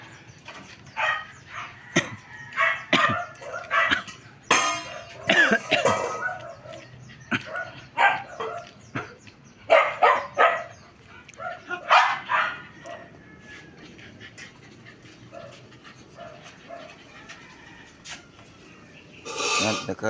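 Pet dogs guarding a car bark repeatedly while being fed in Barangay Dalakit, Catarman, Northern Samar: loud, close, irregular bursts of barking and yips, with a quieter stretch of rustling before barking resumes, and some voices.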